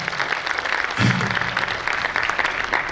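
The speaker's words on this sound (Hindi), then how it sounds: "जोरदार ताली होना चाहिए इस बात पे" Audience applause breaking out at a talk on social media success, with dense clapping running steadily throughout and a slight swell after the first second, loud and continuous with no talk over it.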